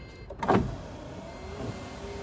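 Car power window motor whirring down and then back up, a steady close electric hum with a brief louder thump at the start of travel, on a car whose window was rewired with an added relay.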